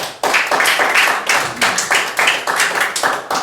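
A church congregation claps in a fast, steady rhythm, loud and close, with many hands striking in time and no talking over it.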